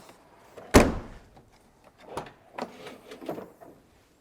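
Lid of a V12 BMW E31 850i, the 1990s coupe, swings with a single sharp thunk of the latch near the start, followed by softer rustling and faint mechanical handling noises, with no talking.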